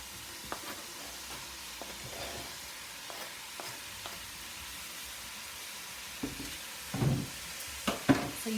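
Shrimp and vegetables sizzle in a pan for fried rice, a low steady hiss broken by scattered clinks and scrapes of stirring that grow louder and busier toward the end.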